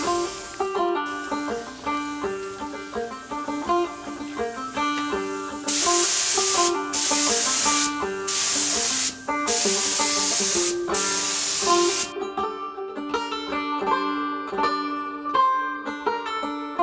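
Paint spray gun fed by a pancake compressor spraying paint onto a jon boat, loud bursts of steady hissing in several pulses with short gaps, over background music.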